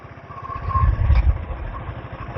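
A Royal Enfield Classic 350 motorcycle out on an early-morning ride gives a low, throbbing engine rumble with a steady pulse that rises slightly midway, close and fairly loud, with wind hiss on top.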